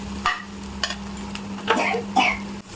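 Onions sautéed for a prawn fry, stirred in a pan with a few scraping, stirring knocks over a low steady sizzle and hum, moderately close.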